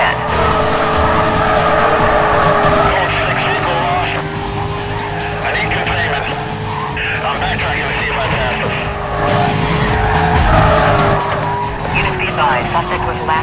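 Chevrolet Corvette ZR1 tearing through a police chase in Need for Speed Carbon, its engine roaring steadily throughout with tire skids and squeals, while police radio chatter runs over the top.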